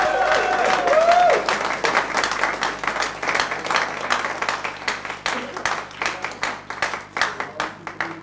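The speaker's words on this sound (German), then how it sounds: "Ein Applaus für unsere Musikanten aus Tirol." Audience applauding the folk musicians from Tyrol at a TV music show, a dense patter of many hands that fades into scattered, uneven clapping by the end.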